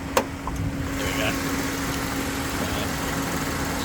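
A 2011 Suzuki Alto GL's 1-litre three-cylinder engine idles steadily and close by, a low even hum after a small click at the start.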